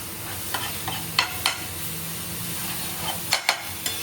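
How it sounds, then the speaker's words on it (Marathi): Tomatoes sautéing in oil in a pan for a dry mutton tawa dish, a soft continuous sizzle broken by several scraping stirs of a spatula. "थोडासा हलकासा असं स्मेल येतपर्यंत परतून घ्यायचं आहे आपल्याला"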